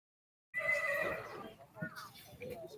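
A horse neighs at a sale barn, one clear drawn-out whinny starting abruptly, followed by softer snorts and movement in a reverberant indoor space.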